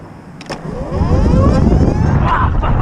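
A 72v Sur Ron electric motorbike fitted with an ERT BAC8000 controller accelerates hard from a standstill, its motor whine climbing steadily in pitch and growing louder over rushing wind and road noise, with no talking.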